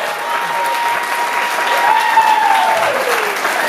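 An audience at a DJ's keynote at Indiana University bursts into sustained, dense clapping for a scratching performer, a lively wash of hands near and far, with faint tones and a voice faintly underneath.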